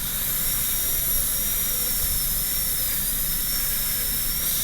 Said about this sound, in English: drill holes where we want those corners to be, and then cut away from those walls